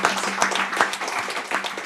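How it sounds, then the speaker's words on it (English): Applause from an audience, dense continuous clapping close and steady throughout, with no talk over it. "a big applause for yourself"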